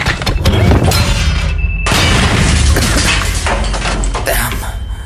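Frag grenade blast in a sci-fi audio drama, a loud booming explosion with crashing debris and a sharp cut into a roaring aftermath, close and heavy.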